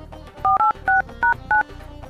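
Five quick dual-tone keypad beeps sound in an even sequence as a mobile phone number is dialed, loud and close over a low background hum.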